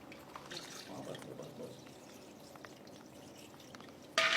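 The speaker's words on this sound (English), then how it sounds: "Let's add 1 liter of milk." Milk, a liter of it, poured into a jug over ice and Ruh Afza syrup for a sharbat, a soft, faint liquid splash and trickle heard close up with no talking.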